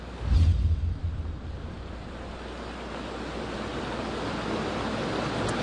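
Heavy rain pours down on a flooded street as floodwater rises, a steady broad outdoor wash with wind buffeting the microphone, a louder gust near the start, then an even roar throughout with no voices.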